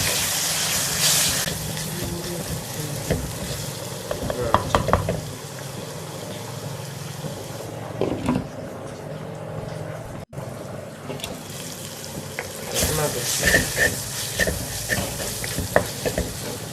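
Turmeric and chili powder stirred into frying fish curry masala in a Kottayam-style kitchen: a continuous sizzle with repeated scraping stirs and spoon knocks, loud at first, quieter in the middle, then busy again, with no voices.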